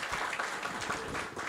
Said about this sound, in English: Let's give a very big round of applause to all the presenters again